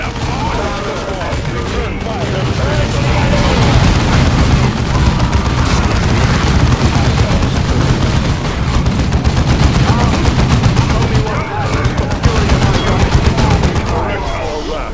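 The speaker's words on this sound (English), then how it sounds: "Why are they all shooting? Under fire." Sustained gunfire rages through a battle in Warhammer 40,000: Dawn of War II on PC, dense overlapping bursts and booms rolling continuously at steady loudness, with voices calling out under the shooting.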